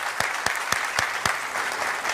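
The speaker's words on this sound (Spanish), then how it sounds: "Un aplauso para ellos." A studio audience applauds a family of Canary Islands folk musicians from Lanzarote as they are introduced, a dense, even roar of clapping with a few sharper individual claps standing out near the front.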